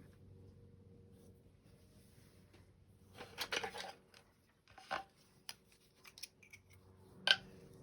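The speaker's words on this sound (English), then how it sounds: "My little snippers." Small scissors snip through waxed thread while a fabric spine is bound into a junk journal, a few quick close metallic cuts with short gaps, the sharpest near the end, over a quiet room.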